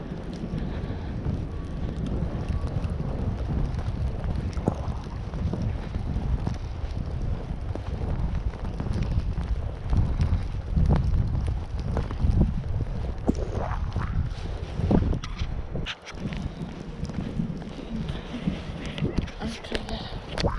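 Strong wind roars and buffets the microphone steadily through a snow storm, loud and close, with a voice speaking at moments.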